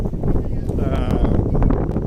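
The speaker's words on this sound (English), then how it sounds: "it's extremely windy here" Strong wind gusts buffet the microphone on a Tokyo street in Sakura-shinmachi under stormy clouds, a continuous deep rumbling roar with no break.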